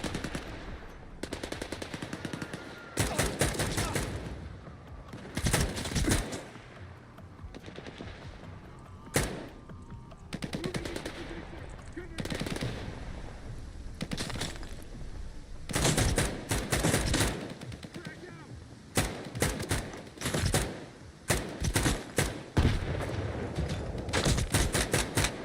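Bursts of automatic gunfire from the video game S.T.A.L.K.E.R. 2, loud and close, come in repeated sustained rattling volleys separated by short pauses and a few single shots, with no talking.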